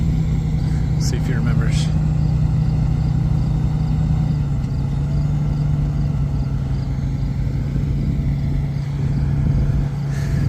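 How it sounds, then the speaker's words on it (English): A farm tractor idles steadily while the planter's blower runs, a constant low drone and hum throughout, with someone speaking briefly over it. "Yeah, turn his blower on."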